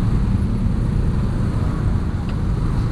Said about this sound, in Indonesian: Separah ini Bandung macetnya.